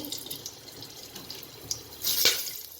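Hot ghee crackling and spitting as cardamom, cloves and peppercorns hit it, with a louder burst of sizzling popping near the end; no voices.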